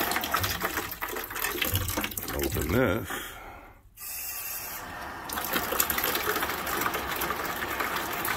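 Water rushing through household plumbing right after a valve is opened: a loud, steady gush that briefly cuts out near the middle, then resumes, with someone talking over it.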